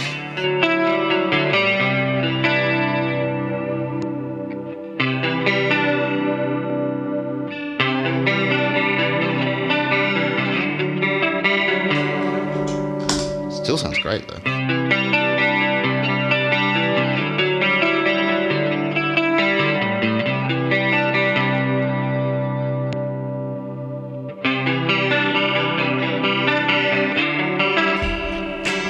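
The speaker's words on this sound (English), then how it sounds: "it's a great sounding chorus" Sustained electric guitar chords with a shimmering, wavering chorus effect, loud and continuous, with a brief pause and a short spoken remark partway through.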